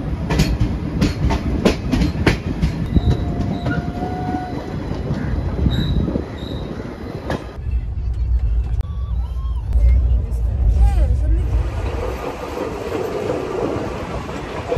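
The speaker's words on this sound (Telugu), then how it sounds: "మనం ఇప్పుడు రోడ్కమ్ రైల్వే బ్రిడ్జ్కి అయితే వెళ్ళిపోతున్నాం" The Puri–Tirupati Express rumbles past with rhythmic wheel clatter and squealing metal, loud and close, then a deeper hollow rumble as it rolls onto the Rajahmundry road-cum-rail bridge.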